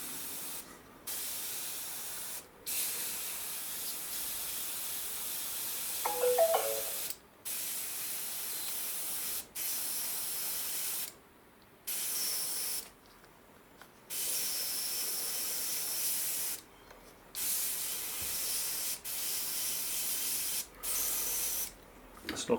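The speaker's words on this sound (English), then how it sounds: "I'll load up the airbrush and see how we get on." An airbrush sprays Model Air dark earth paint in repeated bursts of steady, close hiss, each lasting a second or two, separated by short silent pauses.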